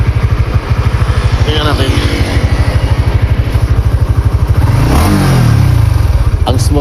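A Honda Winner X 150 motorcycle engine idles up close with a fast, steady putter, then revs up and falls back around the middle. Someone speaks briefly over it.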